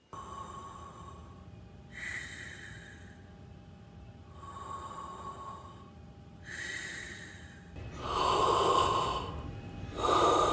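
Heavy, exaggerated breathing and loud snorts come in repeated bursts about every two seconds, close and growing louder toward the end, used as a comic skit between reselling tips, with no talking.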